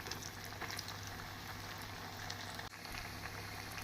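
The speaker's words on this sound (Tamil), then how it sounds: "நாம் கடாயில் எண்ணெய் காய வைத்து சேப்பங்கிழங்கை பொரித்து எடுத்துக்கொள்ளலாம்." Dense, steady bubbling and crackling of taro pieces deep frying in hot oil over high flame, constant throughout with a brief dip near the end.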